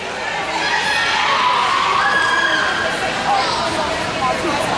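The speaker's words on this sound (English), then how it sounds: "Big round of applause for everyone involved in putting this bout on" A crowd at a junior roller derby bout between Tri-City Junior Derby and Pittsburgh Derby Brats cheers and applauds, with children shouting and a continuous roar of voices and babble throughout.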